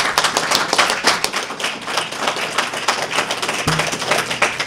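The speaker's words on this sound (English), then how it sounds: "Please give them a round of applause." Audience members at a healthcare town hall applaud the panel members with sparse, distinct, individual claps in an uneven rhythm, close and fairly loud.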